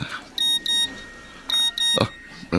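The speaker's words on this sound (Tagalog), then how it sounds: "May nag-text sa cellphone ko." A mobile phone sounds a text message alert: two pairs of bright electronic beeps, a short pause between pairs, followed by a brief voice-like murmur.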